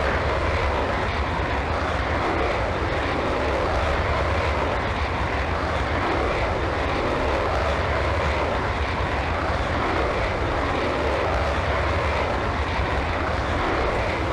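A Su-30MKK jet engine spools up for takeoff from a runway in the Falcon 4 Allied Force flight sim, a loud, steady, broadband roar that holds unbroken throughout with no talk.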